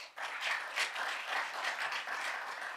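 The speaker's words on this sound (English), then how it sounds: "Please, another round of applause." A conference audience at a public health event gives another round of applause, a fairly quiet, steady patter of clapping from across the room with no talk.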